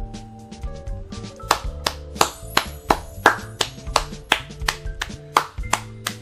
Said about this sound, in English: I gotta clap it up